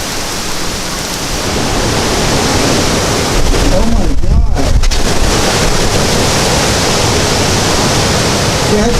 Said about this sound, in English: Oh my god, that wind is so ridiculous right now.